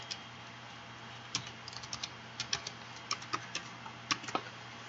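A username and password being typed on a computer keyboard: scattered light key clicks in short irregular bursts over a steady low hum, close and quiet, with no voices.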